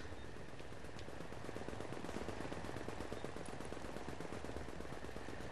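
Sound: distant gunfire in video game The Division

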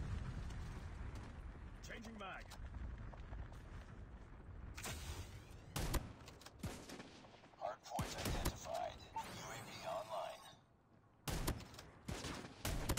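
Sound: shotgun gunfire in Call of Duty Mobile video game

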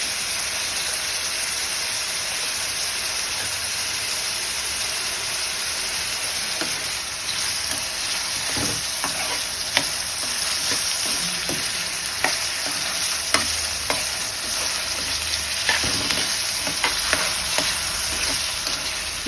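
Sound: snake gourd frying with turmeric and salt, being stirred

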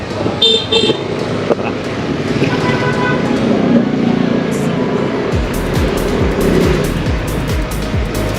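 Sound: heavy road traffic

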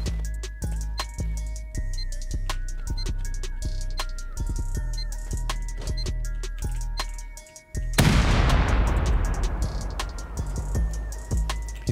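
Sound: C4 explosion in the video game Rust

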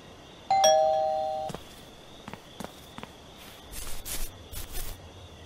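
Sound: doorbell ringing in Thief Simulator video game

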